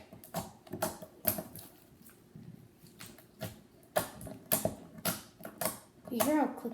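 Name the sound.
clicky slime being mixed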